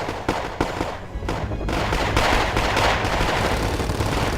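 Dense gunfire and explosive battle noise from the real-time strategy game Wargame: AirLand Battle, sharp shots early on giving way to a continuous loud rumble of fire.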